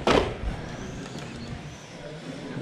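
A 4TEC 2.0 RC car with a 5700kV brushless motor driving on a track with Contact RC foam tires, a loud burst of motor whine at the start fading into a steady, fainter buzz.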